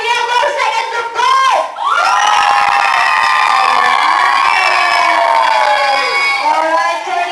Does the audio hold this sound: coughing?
no